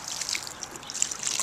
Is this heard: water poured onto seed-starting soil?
yes